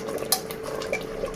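A spoon stirs chicken masala gravy with potato in a cooking pot, giving faint, soft clinks and scrapes against the metal over a low, steady simmering hiss.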